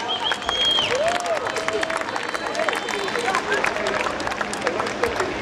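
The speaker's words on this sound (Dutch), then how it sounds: "geef hen een applaus." Spectators clap for the first finishers of the 2012 Ronde om Texel, scattered applause and crowd hubbub at moderate distance, mixed with whistles and shouts, with voices murmuring underneath the whole time.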